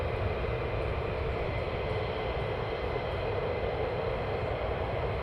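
An aircraft passes overhead on approach into RAF Mildenhall, a steady, broad engine roar that holds at a constant level, moderately loud and unbroken throughout.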